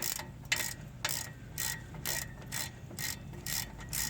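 A ratchet with a 13 mm socket clicks in quick, even bursts while backing out an oil pan bolt on a 2013 Chevy Malibu, the rhythmic pawl chatter close and fairly quiet, with no talking.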